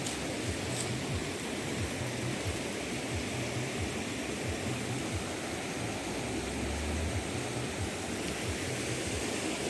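Godavari river floodwater rushing through farm fields of maize and soybean, a loud, steady roar of flowing water with low churning surges throughout and no voices.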